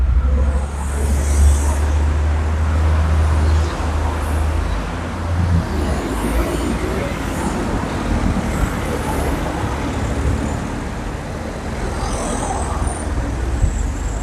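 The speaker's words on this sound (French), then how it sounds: "Oh la vache, les voitures qui polluent là." Cars and buses pass by continuously outside a shopping centre, a loud, steady roar of road traffic with a deep engine rumble near the start, the whooshes of passing vehicles overlapping throughout.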